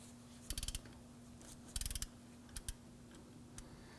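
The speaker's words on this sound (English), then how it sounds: "we're going to use our 13mm socket on our short extension and our 1/2" drive ratchet" A 1/2-inch drive ratchet with a 13mm socket on a short extension clicks in short bursts on the idler pulley bolt of a 2015-2020 Ford F-150 2.7L V6. Quiet, close ticking arrives in two main clusters, then a few isolated clicks over a steady low hum.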